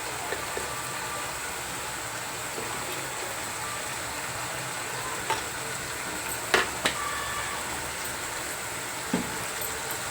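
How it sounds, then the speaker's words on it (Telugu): Prawn and drumstick curry with chili powder being stirred in a pan, a steady soft sizzle under scattered faint scrapes and clinks of the spoon, with no talk. "కారం వేసుకున్నాక ఒకసారి అంత బాగా కలిసేలా తీసుకోవాలి కర్రీ మొత్తం"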